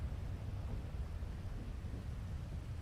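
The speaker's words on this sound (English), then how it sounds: "Oh, the storm, yes. It is so loud." Steady thunderstorm roar in a cyberpunk robot-butler roleplay scene, with low rumbling thunder and continuous rain hiss filling the whole stretch at an even, loud level, no voices.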